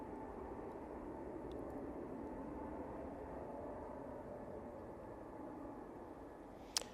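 An EasyJet airliner begins its takeoff roll at Manchester Airport, heard as a faint, distant, steady engine rumble and roar that holds throughout, with a single sharp click near the end.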